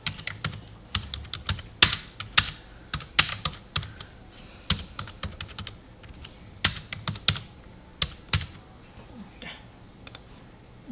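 Typing on a computer keyboard in quick irregular bursts of sharp clicks with short pauses, close and distinct, the occasional heavier keystroke standing out.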